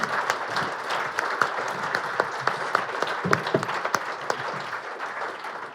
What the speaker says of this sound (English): Can I have a round of applause for our panellists?